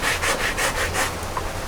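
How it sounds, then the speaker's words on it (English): Wooden 2x4 boards having their jigsaw-cut edges sanded by hand, a close, steady rasping rub repeating in about six quick strokes before easing off, with no talking. "the sanding right now is to knock off any of these little edges on the boards"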